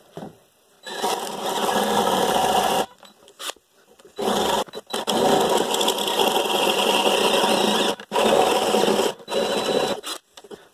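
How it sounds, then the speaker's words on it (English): A power drill with a large bit whirs loudly in several long bursts, drilling a hole straight down, stopping and restarting with short pauses between runs, close up. "You want to make sure this drill is straight down"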